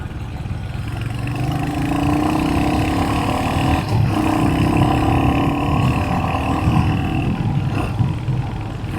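Royal Enfield Hunter 350 motorcycle engine running steadily while riding, a loud continuous rumble with wind noise and a faint shift or rev change near the middle, no voices.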